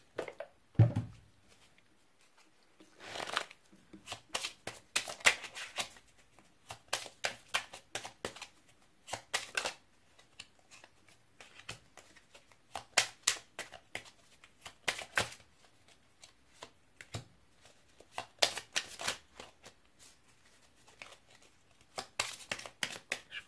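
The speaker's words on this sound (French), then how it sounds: "Je vous propose de tirer une ou plusieurs cartes du petit oracle des animaux du pouvoir." Small oracle cards of power animals being shuffled by hand: soft, rapid papery riffles and flicks in irregular bursts, close and fairly quiet, with short pauses between handlings.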